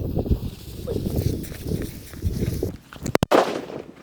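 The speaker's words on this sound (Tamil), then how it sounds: "இந்த வெடியோட சவுண்ட் எப்படி இருந்துச்சு பாத்தீங்களா" Talking and shuffling noise, then a single sharp, loud bang from a traditional country-made firecracker (naattu vedi) set off outdoors, with a quick double crack near the end.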